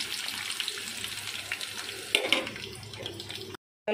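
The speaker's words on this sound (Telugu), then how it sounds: "కాయలు వేడెక్కింది ఉల్లిపాయ పచ్చిమిర్చి ఇందులో వేస్తున్నానండి" Onion and green chillies dropped into hot oil in a pan, a steady crackling sizzle with a brief louder burst midway, before a sudden cut to silence near the end.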